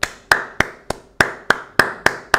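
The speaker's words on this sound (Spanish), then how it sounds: "Aplauso para el video." One person claps nine sharp, evenly spaced times, each a crisp close slap with a quick decay and a short gap before the next.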